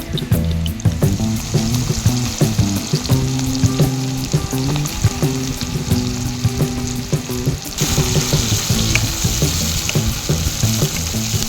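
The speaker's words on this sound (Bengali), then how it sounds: "পেঁয়াজ আর লঙ্কাটা ভালো করে ভেজে নেব মাছের জন্য।" Onions and chilies frying in hot oil in a Bengali kitchen, being cooked for a fish dish: a loud, steady sizzle runs throughout, with frequent stirring clatter and scraping of a utensil against the pan.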